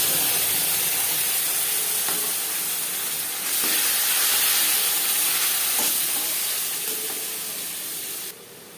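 Grated coconut and spices fry in a pan for a vegetarian Bengali chana dal, giving a steady, loud sizzle and hiss close up with faint stirring scrapes and no talking.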